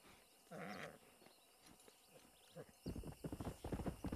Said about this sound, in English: A little bit interesting trying to tame this horse, but got a nice looking horse here.